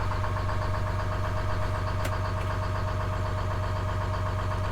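A boat engine idles steadily with a constant low rumble and faint rhythmic knocking, close and unchanging, joined by one brief sharp click midway; no one speaks.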